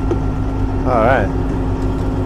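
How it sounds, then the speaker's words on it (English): A truck engine idles in cold, snowy weather with a steady low rumble, and a brief wavering tonal sound rises over it midway. "Now, I don't like idling my truck, but today we're gonna idle it."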